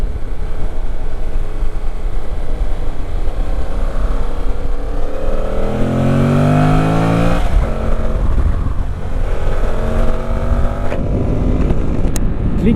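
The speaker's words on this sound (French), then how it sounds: "on reconnaît bien le bruit du CP2" A Yamaha Tracer 7 GT with the CP2 twin engine is being ridden; the motor drones steadily, then its pitch climbs through a rev and falls back before running on, continuous and fairly loud with no talk.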